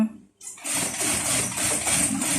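A sewing machine stitches the side seam of a long-sleeve shirt. A short pause gives way to a steady, loud, fast needle chatter that runs continuously close up.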